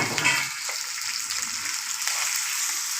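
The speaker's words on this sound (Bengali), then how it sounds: "ক্যাপসিকাম দিয়ে ভালো করে একটু কষে নিতে হবে" Chilli chicken sautéing with capsicum in a hot pan, a steady close sizzle and hiss running evenly throughout with no talking.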